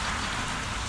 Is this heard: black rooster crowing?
no